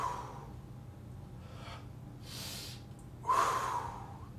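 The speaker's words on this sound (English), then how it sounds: "a more extensive inhale after a slight pause, using the nose, and then breathing out the mouth" A person does a breathing exercise during a full body workout, with audible breaths and a louder sharp gasp or snort near the end, close to the listener and with no talking.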